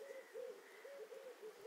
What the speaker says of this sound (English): red-eyed pigeons. It's a constant background noise, day and night, for the most part.